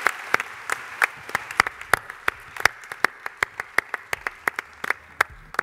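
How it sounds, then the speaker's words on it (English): A small audience claps for a panel at a youth summit session, a sparse, steady round of separate hand claps, fairly faint and distant. "If we could give them a massive round of applause."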